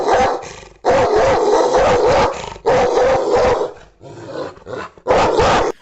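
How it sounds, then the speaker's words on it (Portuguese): A dog barks loudly and close in several bursts, with short pauses between the groups of barks and no speech. "conversa com meu cachorro, Stark."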